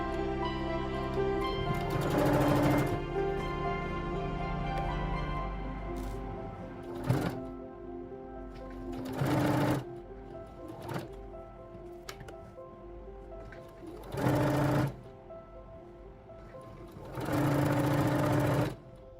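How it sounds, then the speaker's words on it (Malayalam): A domestic sewing machine stitches lace onto a canvas neck panel in several short bursts of rapid whirring and clatter separated by pauses, near and fairly loud, with no talking. "ഇനി അതുപോലെ തന്നെ ഇപ്പുറത്തെ സൈഡും സ്റ്റിച്ച് ചെയ്തെടുക്കാം."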